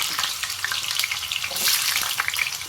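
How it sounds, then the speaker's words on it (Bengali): Potatoes fry in hot mustard oil in a pan, giving a steady, close, fairly loud sizzle with crackling bursts, unbroken throughout and with no talking over it. "এই তেলের মধ্যে আমি কেটে রেখেছিলাম কিছুটা আলু আমি ভেজে নেব"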